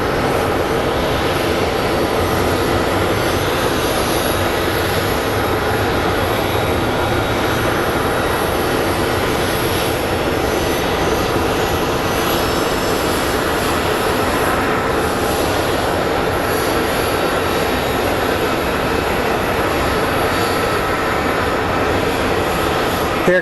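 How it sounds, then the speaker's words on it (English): JSX Embraer jet inbound from Burbank to Phoenix Sky Harbor, its engines producing a loud, continuous broadband roar that holds steady throughout with no speech. "Here comes our JSX Embraer coming in from Burbank."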